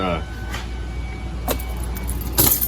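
A key ring jingles as the key is pulled from the ignition switch of a 2003 Ford Escape, with three short metallic rattles over a low steady hum inside the car.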